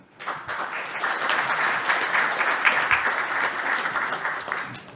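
Audience applause welcomes the panelists at a POSCO FLOW policy forum on legislating ESG eco-friendly transport, a dense, even wash of many hands clapping that holds steady for the whole stretch with no voices over it.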